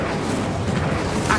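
A fire spell cast in the Hogwarts Legacy video game: a short, dense whooshing roar of flame that holds steady and loud for just over a second.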